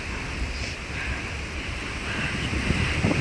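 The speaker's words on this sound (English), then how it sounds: "oh my god, it is so windy" Strong wind roars steadily across the microphone outdoors on a cold, stormy day, a loud continuous rumbling buffet with no talking.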